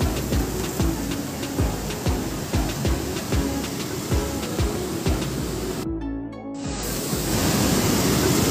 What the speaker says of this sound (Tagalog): Sinugod na ng dagat sa loob.